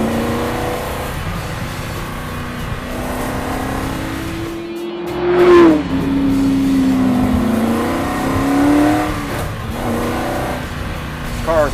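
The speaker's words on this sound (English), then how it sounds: "GT40. This is the car that won Le Mans in 1966 against Ferrari. You can hear it's quite loud." Ford GT40 race car engine revving loudly, a rising and falling snarl with a sharp high-revving peak midway, close and dominant, with tire noise mixed in.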